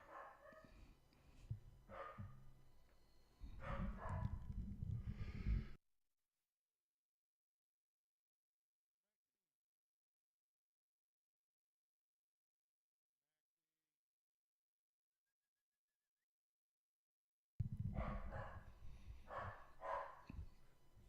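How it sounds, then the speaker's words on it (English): A dog barks in repeated sharp bursts, first for several seconds, then again after a long stretch of silence, fairly close and loud. "The doggo is barking."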